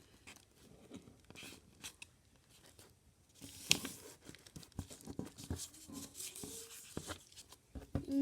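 Paper for an origami swan is folded and creased up close, a soft, quiet run of crinkles, rustles and light scraping that grows a little busier toward the end.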